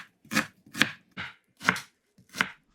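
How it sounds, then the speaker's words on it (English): Five sharp knife chops strike a cutting board while dicing onions, at a slow, even pace, close and distinct with quiet gaps between. "So I'm going to begin by chopping my onions."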